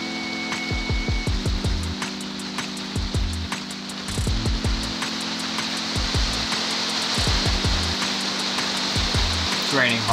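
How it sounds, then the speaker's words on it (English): Heavier rain falling on an RV under renovation, a dense, continuous wash of drops with sharp knocks and taps scattered throughout, building slightly louder toward the end. "Raining harder now if you can't hear it."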